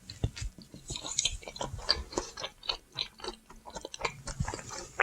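Someone chews a bite of plain regular (non-aged) tuna sashimi with no soy sauce, making soft, moist, irregular clicks and squelches up close with no talking.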